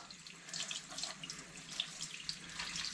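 Warm water runs from a tap in a steady hiss with splashy spurts as sausage casings are rinsed under it, close by and fairly quiet.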